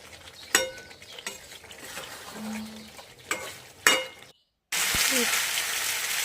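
Chicken and potato pieces are stirred in oil in a pan for chicken kosha, with scattered scraping clinks over a low sizzle, then a brief silence and a steadier, louder frying hiss.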